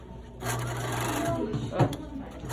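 A sewing machine stitching fabric apron straps, a steady close mechanical whir starting after a brief pause and running with slight fabric rustle, while a person talks over it.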